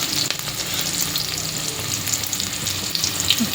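Chopped onions sizzle in hot oil in a pan for North Karnataka style pulao, a steady close crackling hiss with light stirring scrapes throughout.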